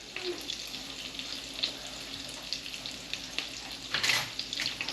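Garlic sizzles steadily in a hot pan, a dense crackling hiss that holds at an even level throughout, with a brief louder flare of spattering near the end.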